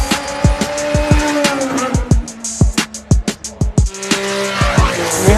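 Red Bull Formula One race car at the Goodwood Festival of Speed, its high-pitched engine screaming through rapid upshifts and blips, with sharp repeated bursts and pops, loud and close with no talk.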